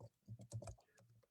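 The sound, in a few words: typing on a computer keyboard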